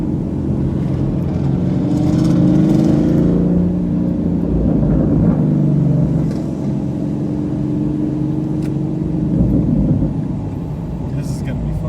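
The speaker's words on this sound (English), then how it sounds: "All the V8s leaving" V8 cars, including a Mustang GT and an SRT, rev and rumble as they pull out of a cars-and-coffee meet, a steady loud engine drone throughout with people talking over it.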